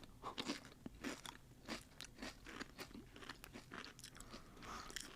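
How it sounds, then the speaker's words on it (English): Repeated crisp crunching as a spicy Pringles chip is bitten and chewed close to the mic, a steady run of sharp crackly bites and chews with no talking. "Pringles always have a good crunch."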